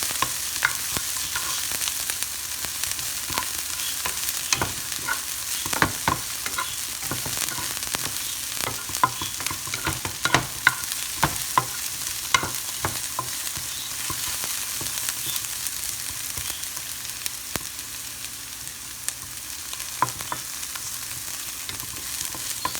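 Egg-tomato curry simmers and sizzles in a pan for a couple of minutes, a constant frying hiss broken by repeated sharp clicks and scrapes of stirring, with no speech.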